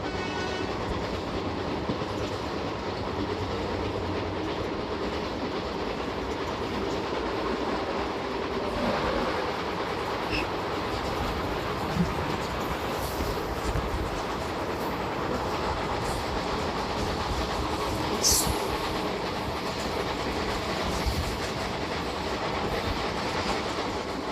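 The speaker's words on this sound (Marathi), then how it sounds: "आणि एक फ्रेट ट्रेन आहे आणि त्याला लीड करतोय WAG-9 मधून" A freight train led by a WAG-9 electric locomotive runs past, with a continuous rolling roar and rhythmic clickety-clack of wheels over rail joints, steady at moderate distance, no voices.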